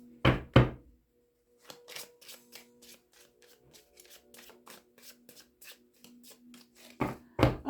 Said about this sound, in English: Get some good shuffles in, Aries, and we will begin your reading.